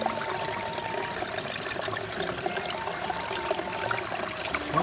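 Water being poured out from a cooking pot beside a river, a steady splashing trickle running continuously against the flowing stream.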